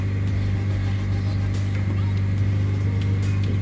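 A 2006 Honda Civic Si idling after start-up, a loud, steady low engine hum and drone holding constant throughout.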